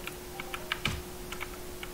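Someone types on a computer keyboard with a quick, uneven run of close, soft key clicks. One louder thump stands out midway, and a faint steady hum sits under the clicks.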